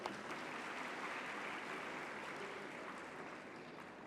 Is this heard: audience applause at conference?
yes